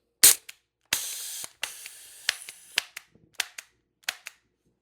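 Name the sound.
TR50 Torpedo air gun shooting and leaking gas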